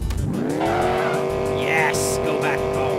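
A car in the video game Enviro-Bear 2000 reverses with a rising engine whine and squealing, skidding tires, loud and close, while people talk excitedly over it.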